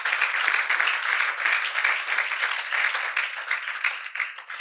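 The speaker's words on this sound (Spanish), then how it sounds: "¿Cuánto le puedo dar ese aplauso a nuestro Dios?" A church congregation applauding together, dense steady clapping that fills the room and holds at an even level throughout, easing slightly toward the end.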